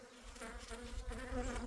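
A new swarm of honeybees being captured produces a dense, continuous buzzing hum from many insects close by, slightly wavering in loudness, with no talking.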